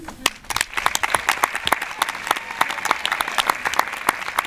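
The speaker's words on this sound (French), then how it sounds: "on va vraiment les applaudir très fort" An evening event audience in Brignais, near Lyon, claps loudly and steadily, a dense applause of many hands close by that continues throughout without talk.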